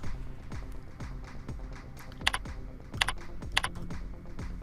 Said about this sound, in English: you can type the end of month cover directly into each month by clicking on the cell